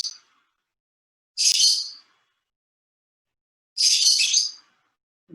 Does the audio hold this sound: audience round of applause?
no